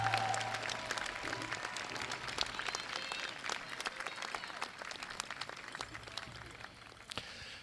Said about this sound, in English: Let's give them and you a round of applause for a job well done in a very challenging time.